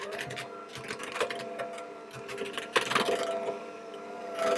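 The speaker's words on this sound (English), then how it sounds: "I'm just going to mix that on a low speed to get that combined." An electric mixer runs on low speed, combining flour into batter for a spiced fig loaf cake; a steady whirring motor hum with faint clinks continues close by without talk.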